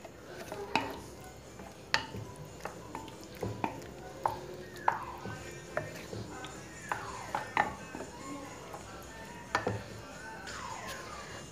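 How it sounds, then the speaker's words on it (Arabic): Cheese is stirred into a hot homemade sauce in a pan, giving repeated soft scraping and clinking strokes at close range with a light sizzle underneath, during a quick home dinner preparation. "غنضيف ليها الجبن وغادي نحرك"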